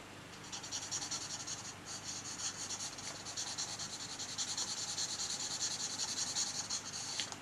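Continuous soft rubbing and scratching as a blending stump smudges pastel across paper, a steady close dry rasp with no talking.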